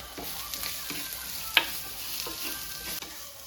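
Small onions sizzle and crackle in hot oil in a pan as they fry for a chicken curry, with a soft steady hiss, a few sharp pops and occasional stirring scrapes.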